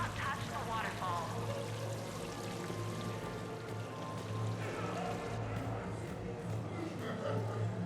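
Steady wash of falling water from a casino waterfall in Mass Effect 3, a continuous pouring rush with a low hum beneath it, layered with faint background voices and ambient murmur throughout.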